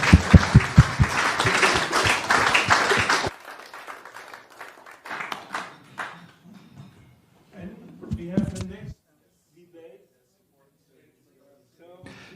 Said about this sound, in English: Give them a warm applause, and thank you for being here.